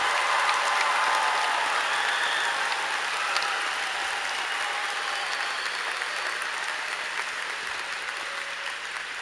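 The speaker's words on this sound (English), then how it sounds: "Can I get a final round of applause for the amazing graduates of the class of 2022?" Crowd applause for graduating students at a 2022 high school graduation ceremony, a steady, dense wash of clapping that runs continuously and slowly fades slightly, heard from within a large audience.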